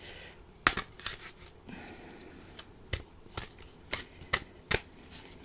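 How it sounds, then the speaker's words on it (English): Coated, slightly sticky playing cards being shuffled by hand, a series of sharp riffling bursts and flicks at uneven intervals, close and crisp against a quiet room. "I just normally, this is how I shuffle."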